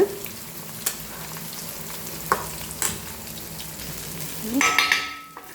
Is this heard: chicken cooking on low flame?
yes